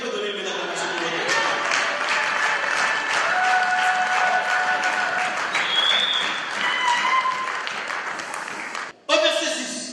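An audience applauds in church, with dense, sustained clapping and crowd noise for about nine seconds before a brief cut and a short burst of sound.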